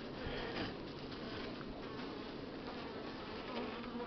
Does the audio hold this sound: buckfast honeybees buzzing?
yes